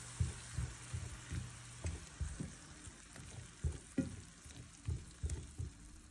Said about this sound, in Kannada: ಸ್ವಲ್ಪ ಈ ಈರುಳ್ಳಿ ಟೊಮ್ಯಾಟೊ ಜೊತೆಗೆ ನಾನು ಬೇಯಿಸ್ಕೊತಾ ಇದ್ದೀನಿ.